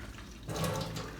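Water gushes into a container outdoors, starting abruptly after a quiet moment and continuing as a steady, fairly close splashing rush with no voices.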